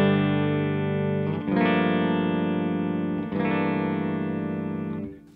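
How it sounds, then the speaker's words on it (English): Telecaster electric guitar played straight into a Revv D20 amp, ringing out in three sustained strummed chords, each left to hang before the next, loud, close and without any voice. "This is the Tele into the amp."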